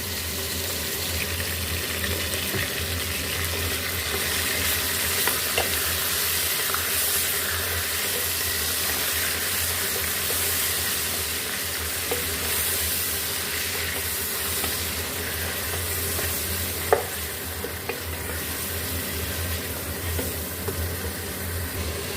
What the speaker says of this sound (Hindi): और इसको भी हम फ्राई कर लेंगे